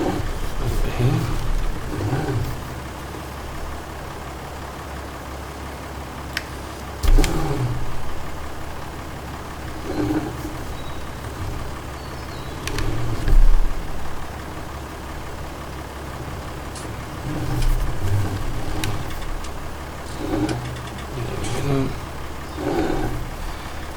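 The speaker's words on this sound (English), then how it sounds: "switch off the engine, put the handbrake on" A farm vehicle engine in the video game Farming Simulator 19 hums and idles steadily, with occasional revving surges and knocks, while someone talks over it throughout.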